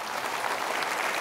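A short burst of steady, dense audience applause at an Indonesian motivational seminar, loud and continuous throughout with no talk.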